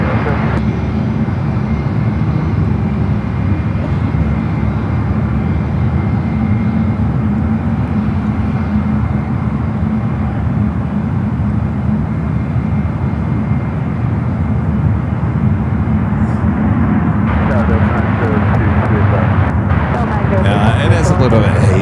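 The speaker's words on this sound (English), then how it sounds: "U.S. Airways Retro American A321 heading up to the 28s." A US Airways retro American livery Airbus A321 airliner rumbles at San Francisco airport, a loud sustained low engine roar that holds steady and grows brighter and rougher near the end.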